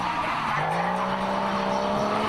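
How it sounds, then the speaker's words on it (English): A car drifting on a track at a live drift-limbo event gives a continuous loud tire squeal and skid layered over a rising engine note, close and sustained without pause. "Successful drift,"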